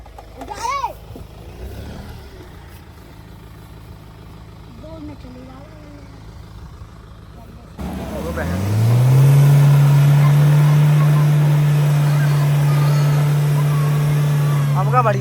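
A Mahindra Thar stuck in mud with both tyres up during a rescue; after quiet talk the engine starts and revs into a loud, sustained steady drone close by.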